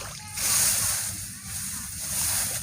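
Floodwater sloshing and splashing as it drains out of a flooded farm field, a steady watery churn throughout, fairly close.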